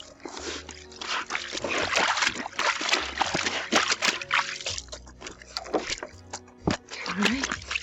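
Bed sheets being hand washed in soapy water, with repeated sloshing, splashing and dribbling as the wet fabric is rubbed and squeezed, close and fairly loud in uneven bursts with no talk.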